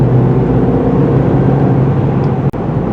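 A Cadillac CT5 Blackwing engine drones steadily at cruise in V performance mode, a constant low rumble inside the cabin with road noise and a brief dropout near the end.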